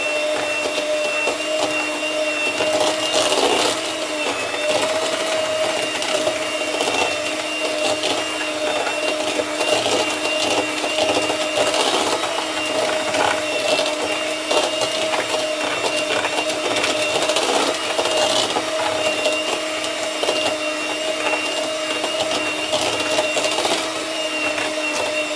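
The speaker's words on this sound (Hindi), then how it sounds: "मज़ीद लो स्पीड पे इसको अच्छे से बीट कर लूंगी, मिक्स कर लूंगी।" An electric mixer beats eggs at low speed for coconut cookie batter, giving a steady, continuous close-up whir that holds unbroken and fairly loud throughout, with no voices.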